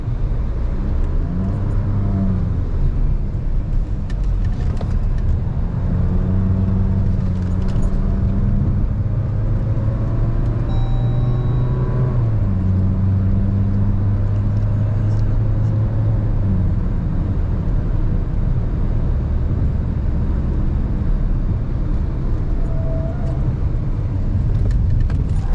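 A Jeep Meridian 4x4 drives hard in a controlled drift, its engine droning and rising and falling in pitch with a steady road rumble, heard from inside the cabin, with no talk.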